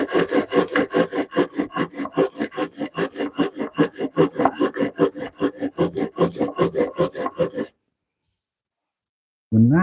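Blade of a Stanley No. 4 hand plane rubbed back and forth on an abrasive sheet to sharpen the edge: fast, steady gritty rasping strokes for about seven seconds, then a pause and another stroke starting.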